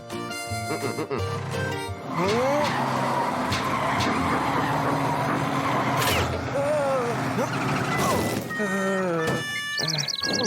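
A garbage truck engine running rough revs and whines continuously, with rising and falling pitch sweeps over a steady rumbling drone.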